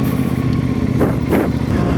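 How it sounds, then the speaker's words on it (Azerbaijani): A motorcycle engine drones loud and close while the bike is ridden through city traffic from Əhmədli to Sahil. The engine note rises briefly in a couple of throttle surges. "motorla getmək lazımdır."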